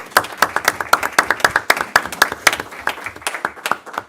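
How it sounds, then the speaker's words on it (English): A small gathering at a village board of trustees meeting applauds, with a handful of distinct, sharp hand claps in a rhythmic, sparse pattern, close and fairly loud. "give her a round of applause"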